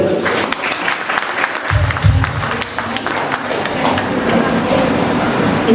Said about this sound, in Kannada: ಮತ್ತೊಮ್ಮೆ ನಮ್ಮ ಚಪ್ಪಾಳೆ ದೀಪ್ತಿ ಅವರಿಗೆ.